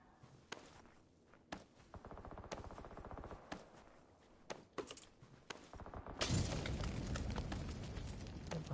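Gunfire in the battle-royale shooter PUBG played on PS4: repeated sharp single shots spaced across several seconds, then a louder, denser stretch of rapid firing and rumble near the end, with no talk.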